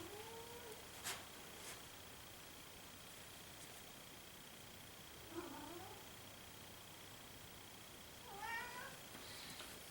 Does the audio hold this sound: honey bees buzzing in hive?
no